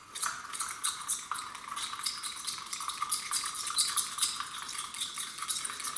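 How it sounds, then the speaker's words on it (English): A soil sample is whisked in water in a small container for a pH test, giving a faint, continuous rapid clinking and swishing stir that stays fairly quiet throughout, with no talk. "Okay, and then what we do is we whisk that up."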